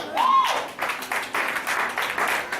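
A church congregation claps and applauds during a sermon, with a steady patter of hands and voices mixed in, fairly close and continuous throughout.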